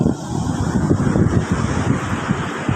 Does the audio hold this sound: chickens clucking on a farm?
no